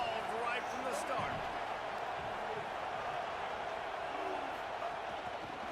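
A stadium crowd in a college football video game roars as a steady, broad wash of noise, with a commentator's voice running over it.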